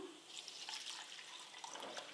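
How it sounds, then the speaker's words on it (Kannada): Water from a tap runs steadily into a pot, a glass-sized amount set to heat for dissolving jaggery in a home kitchen; a faint, continuous splashing trickle with no talk. "ಒಂದು ಲೋಟ ಇದು ಗ್ಲಾಸಿನಷ್ಟು ನೀರು ಅದು ಬಿಸಿಯಾಗಲಿಕ್ಕೆ ಇಟ್ಟಿದ್ದೇನೆ ಈ ನೀರನ್ನು"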